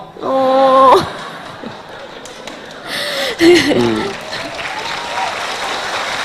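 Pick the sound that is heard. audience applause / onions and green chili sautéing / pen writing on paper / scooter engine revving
audience applause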